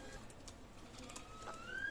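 Faint pigeons coo softly in the background of a quiet space, with a thin whistling tone rising near the end.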